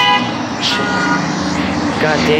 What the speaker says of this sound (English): Sorry if you hear honking in the background, that's just traffic.